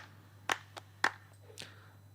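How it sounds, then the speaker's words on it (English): A few sampled hand claps from a pop drum loop, four or five sharp dry hits in an uneven pattern, quiet and alone with no other sounds. "some claps"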